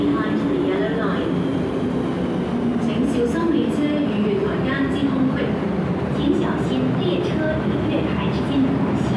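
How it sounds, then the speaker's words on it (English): An MTR Island Line M-Train pulls into a Hong Kong station platform with a loud, steady rumble and rising wheel and motor noise that fills the whole clip, while platform announcements play over it. "The train to Central is arriving."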